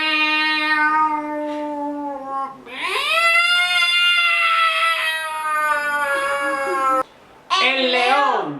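A person mimics a cat's meow vocally, giving two drawn-out, nasal meows, the second louder and longer, followed by a short rising mew after a brief pause, close to the listener.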